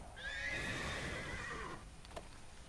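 A horse in the Neverwinter video game gives a loud, close, drawn-out whinny lasting under two seconds, followed by a couple of faint hoof clops.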